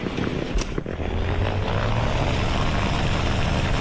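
A propeller plane's engine drones loud and steady from a flight combat video game, with a brief dip in the first second before the continuous hum settles in alone.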